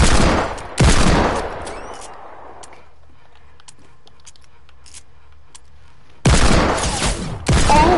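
Gunshots in a shooter game: two loud close shots at the start ringing into a fading tail, a quiet stretch, then two more loud shots near the end, alone without talk.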